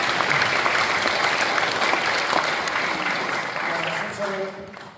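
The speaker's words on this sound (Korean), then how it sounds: "박수로 안녕하십니까?" A crowd at a commemorative event for President Syngman Rhee's birthday gives sustained, loud applause, a dense continuous clatter of many hands that fades slightly near the end as a voice begins speaking.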